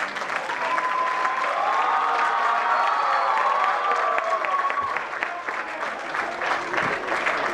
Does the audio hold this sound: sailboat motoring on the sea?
no